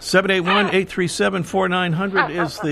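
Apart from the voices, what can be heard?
No everyday noises stand out.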